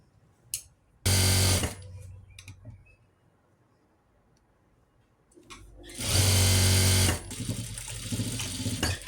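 A sewing machine stitches an angrakha-style kurti in two loud, fast whirring runs, the first short and the second longer, separated by quiet handling of cloth.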